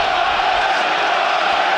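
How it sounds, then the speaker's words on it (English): A football stadium crowd at a Premier League match between Tottenham Hotspur and Nottingham Forest roars steadily for Spurs, a dense continuous wall of distant voices. "The crowd really trying their hardest to get Spurs going in this one."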